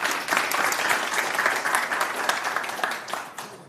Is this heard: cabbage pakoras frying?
no